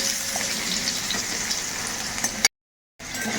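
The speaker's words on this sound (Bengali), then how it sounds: "তো আলুগুলোকে একটু ভাজা ভাজা করে দেব।" Cut potato pieces fry in oil in a wok, making a moderate, steady sizzle with faint stirring before an abrupt half-second silence, then the sizzle resumes.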